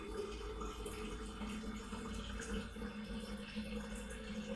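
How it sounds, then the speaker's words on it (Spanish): Filtered water pours steadily into a jug, a continuous soft splashing stream that stays even and close for the whole stretch with no voices over it. "coloco el agua en esta jarra."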